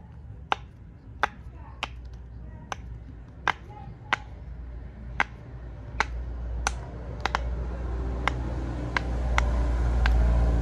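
Someone presses a silicone pop it fidget toy shaped like a puzzle piece up close, giving about fifteen crisp, sharp pops at an uneven pace over a low background rumble.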